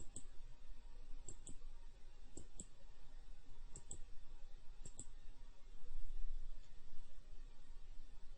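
A computer mouse clicks in software in distinct paired clicks, about five double clicks spaced roughly a second apart, close and crisp over a low steady room hum with no talking.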